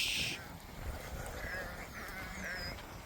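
Sheep bleat a few times in a field near new fencing, thin calls at a moderate distance over a steady outdoor background, with no talk.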